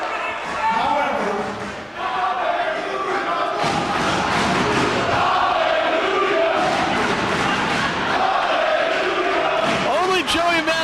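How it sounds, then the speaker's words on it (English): A Philly indie wrestling crowd at a 3PW event roars continuously in a loud, sustained ovation, with cheering, shouting and thumping filling the arena throughout. "only Joey Matthews can make this Philly crowd go religious on us"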